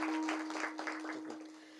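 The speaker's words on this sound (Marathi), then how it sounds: "टाळी वाजवा." An audience at a kirtan for a saint's death anniversary claps in a short burst of applause that starts fairly loud and fades away within two seconds, over a steady faint hum.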